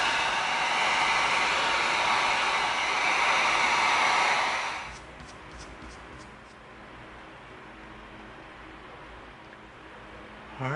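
Heat gun blowing on EVA foam pieces for a Star Trek phaser prop, a loud steady broadband whoosh for about five seconds that cuts off, leaving a quiet low hum and faint room noise.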